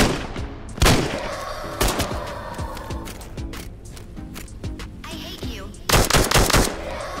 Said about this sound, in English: These guns sound absolutely forceful, and feel and sound like firing an actual firearm much more than they did in Into the Radius 1.